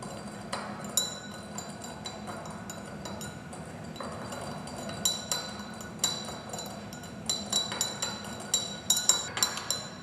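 Sugar stirred into about 80 ml of water in a glass beaker, giving light, repeated clinks and taps of the stirrer against the glass, close and fairly quiet, growing more frequent toward the end.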